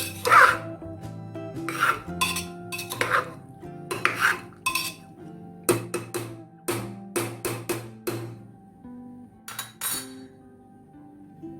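Prawn rice with masalas being stirred in a pot, a spoon repeatedly scraping and clinking against the metal in uneven bursts, close and fairly loud, with no voices.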